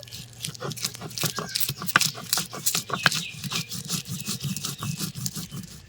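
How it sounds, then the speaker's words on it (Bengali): Green chillies and spice paste are ground by hand on a grinding stone, with repeated rough scraping strokes in a steady back-and-forth rhythm, close and distinct, with small clicks of stone on stone. "কাঁচা লঙ্কাটাও এই একসঙ্গেই ভালো করে মিশিয়ে বেটে নেব"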